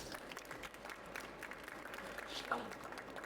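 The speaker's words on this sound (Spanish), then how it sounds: "Un aplauso para Rubén." Audience at a photography talk applauding, a soft, steady spread of clapping from a modest crowd that holds evenly across the moment, heard at a distance with faint murmuring underneath.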